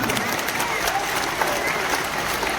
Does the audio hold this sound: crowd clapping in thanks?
yes